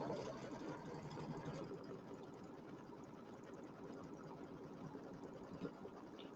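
An embroidery machine stitches a witch's hat design with a fast, steady mechanical rattle, fairly quiet and even, slightly louder at the start.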